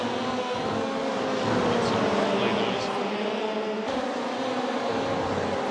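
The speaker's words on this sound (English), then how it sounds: "I love the sound of these cars when they're on sort of like, overdrive coming off the power." VW Beetle and Ford Fiesta race cars lifting off the throttle at Mid Ohio give a steady, loud, droning engine roar that holds for several seconds with little change in level.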